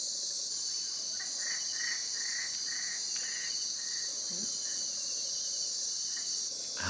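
Amazon rainforest insects at night near Leticia, Colombia, keep up a dense, constant high-pitched chorus of crickets, with a faint pulsing call repeating in the middle.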